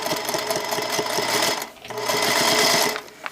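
A sewing machine chain-piecing quilt pieces runs in two steady bursts of fast, even stitching whir with a brief slowdown between them, loud and close, with no talking.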